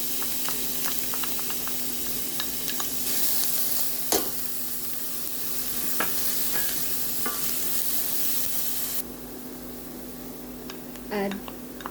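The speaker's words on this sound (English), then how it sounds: "fry our onion" Onion frying in hot olive oil in a pan, a steady close sizzle with occasional stirring scrapes and clinks, continuing throughout and dropping slightly in level near the end.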